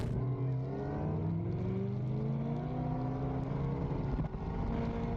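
Powerful Mustangs street racing in Texas, among them a 1300 HP twin-turbo Shelby GT350, roar loudly and continuously with rising engine pitch as they accelerate hard, close and dense throughout.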